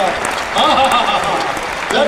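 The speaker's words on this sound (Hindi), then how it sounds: "एक बार ताली हाथ उठा के बजा लो यार" Audience applause at a Hindi poetry recital by a poet for Krishna Janmashtami, a dense, steady patter of clapping that lasts about two seconds with a voice talking over it.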